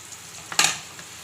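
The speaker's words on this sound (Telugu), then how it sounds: "మిక్స్ చేసేసుకొనేసి ఫ్రై చేసేసుకోవాలి" Semiya frying in a pan with ginger garlic paste, a quiet sizzle that rises into one short burst of stirring near the middle, then settles back to a low hiss.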